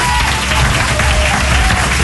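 Continuous applause from an audience, a dense wash of clapping held at steady loudness throughout, with no clear voices over it.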